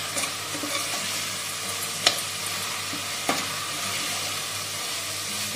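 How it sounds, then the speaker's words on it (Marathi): Garlic paste sautéing in a little oil in a pan gives a steady, fairly quiet sizzle, with two brief sharper clicks of stirring partway through and no voices. "आला लसूणचं पेस्ट थोडंसं तेलामध्ये परतून घ्यायचं."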